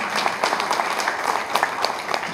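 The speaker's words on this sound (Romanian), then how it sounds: "haideți să fim astăzi împreună și să-i aplaudăm" An audience applauds at a ceremony honoring couples married for 50 years, moderately loud with distinct individual claps popping out irregularly from the steady crowd clapping.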